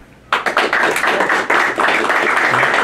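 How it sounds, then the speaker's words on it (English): A studio audience on a live radio and TV show breaks into applause after a brief silence. The clapping is loud and close, starts with a few sharp claps and thickens into steady applause. "a nice round of applause from Traitware"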